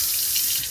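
A modern automatic kitchen sink faucet runs water in a steady, close hiss of splashing flow into the basin, without talk.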